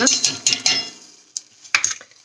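A spoon stirring ingredients in a bowl while a baked chicken is being prepared, with several quick clinking scrapes against the bowl close by, then a pause and a couple more clinks.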